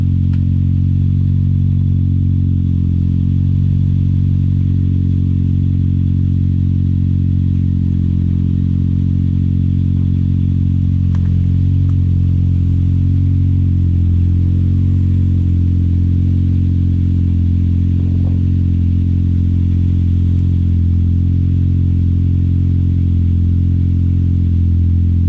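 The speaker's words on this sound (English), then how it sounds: "Turbo still spinning. It's not exactly quiet," A Toyota Starlet with a turbocharged 4E-FE engine idles steadily after a test start, with its turbo still spinning. The engine makes a loud, constant low drone up close for the whole stretch, with a slight clatter over it.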